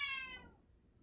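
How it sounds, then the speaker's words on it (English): A single cat meow, fairly faint and close, with a bright tone that fades out within half a second into quiet. "So only when I start to talk, you're going to start to meow."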